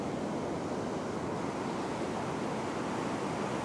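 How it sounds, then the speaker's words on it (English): Big ocean surf pounds a beach where someone is shore fishing for Australian salmon, a continuous loud wash of breaking waves and roaring white water with some wind across the microphone. "Quite a few big waves coming in at the moment"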